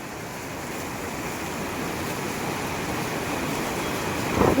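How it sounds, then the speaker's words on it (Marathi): The Mandakini river rushes steadily on the trail toward Kedarnath, a dense, even roar of flowing water that holds constant throughout with no voices. "आणि ही आहे मंदाकिनी नदी."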